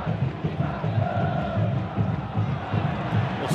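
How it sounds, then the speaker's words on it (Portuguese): Vasco supporters chant in a stadium during a Série B football match against Portuguesa, a loud, dense crowd roar of rhythmic singing that holds steady throughout. "A torcida do Vasco imediatamente responde depois que a Portuguesa começou a cantar."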